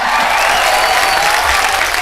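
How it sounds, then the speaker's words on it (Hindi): Loud, dense applause from a crowd, continuous clapping filling the whole moment. "अभी सरपंच के लिए जोरदार ताली"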